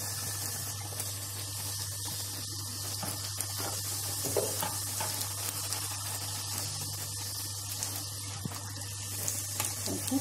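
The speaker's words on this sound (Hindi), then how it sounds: "अब यहाँ पे मेरा तेल गर्म हो चुका है, हम इसमें डालेंगे। इसे आप एक एक करके डालिए।" Semolina and wheat golgappa puris frying in hot oil give a steady, dense sizzling hiss throughout, over a constant low hum, with no talking.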